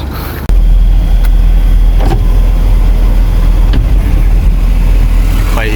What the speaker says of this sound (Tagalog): Ito yung sasakyan namin o.